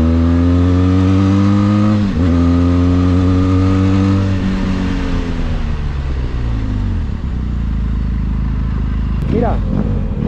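A Benelli TRK motorcycle engine with a loud aftermarket exhaust roars close by. Its deep, rumbling note winds down from a high rev, dips again, then settles into a low, throbbing idle.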